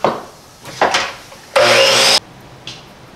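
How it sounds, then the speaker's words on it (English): A miter saw cuts a wooden board for a wall-mounted bottle opener: short rubbing and handling noises, then a loud, close, whining burst of a little over half a second. "this piece needs to first off get measured to length and then cut on the miter saw"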